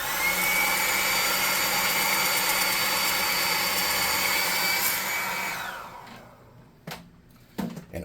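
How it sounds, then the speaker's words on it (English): A hot air gun blows a loud, steady broadband whoosh while drying a handmade craft lizard piece, running continuously for several seconds before cutting off, followed by a few faint handling knocks. "I'm going to use the hot air gun for this."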